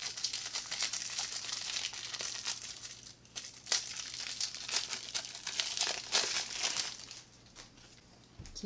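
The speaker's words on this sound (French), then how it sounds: "Et là, on a effectivement d'autres cartes à déballer." Game cards for The Edge: Dawnfall being unwrapped from their packaging, with steady crinkling and tearing of plastic wrap close by for several seconds and no talking.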